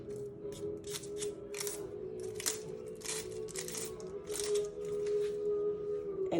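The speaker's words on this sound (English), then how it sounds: "So I'm gonna peel the skin off." A white onion having its dry papery skin peeled off by hand, heard as repeated close crackling, crinkling tears over a steady background hum, with no talking.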